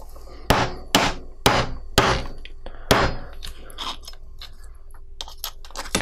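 A hammer strikes a burr onto a rivet in a handful of sharp, ringing blows, spaced about half a second apart and then thinning into lighter taps and small metallic clicks.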